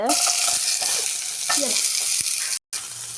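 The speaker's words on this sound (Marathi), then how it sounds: "हाका तेल घालून घेतला. आतां हांव हाका पियाव घालून घेतस." Onions frying in hot oil in a pan for a GSB-style paneer masala, a loud, steady close-up sizzle with occasional stirring scrapes and a brief dropout near the end.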